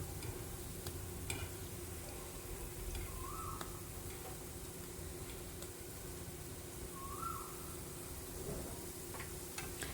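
Bread pieces fry gently in ghee over low heat, giving a steady soft sizzle with faint stirring clinks throughout, close and moderately quiet.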